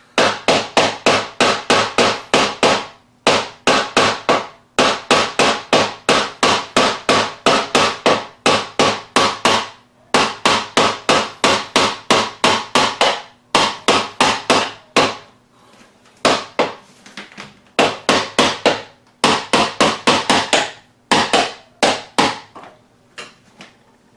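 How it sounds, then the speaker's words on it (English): Rapid bursts of loud hammer blows against a stubborn metal hinge on a closet door, repeated in quick runs with short pauses between, close and with no talk. "So I got to just keep hammering at it"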